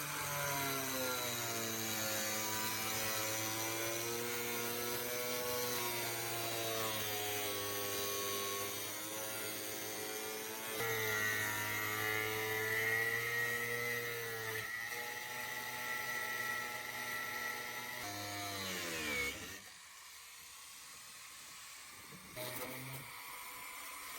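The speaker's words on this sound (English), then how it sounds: "we used an angle grinder to cut out the middle section" An angle grinder cuts through an old heavy-duty plastic water tank, giving a continuous whining drone whose pitch rises and sags as the disc bites into the material, fairly faint and sustained for around twenty seconds.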